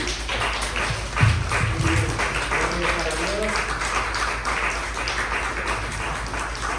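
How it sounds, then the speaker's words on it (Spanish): A church congregation claps together in a dense, steady patter that runs throughout, with a voice speaking over the applause. "Yo quisiera que se sienta más fuerte ese aplauso para Dios"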